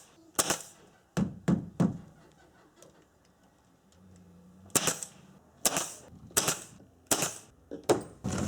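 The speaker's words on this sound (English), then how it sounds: "Now it's time to add some staples." Sharp, snappy staple-gun shots fastening the roof of a vintage Shasta camper trailer, several close, loud bangs in two clusters separated by a quiet pause.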